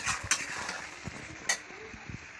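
Ghugni, a pea and potato curry, being fried and stirred in a pan: soft scraping spoon clicks and faint sizzling, with a few sharper knocks against the pan, close and fairly quiet.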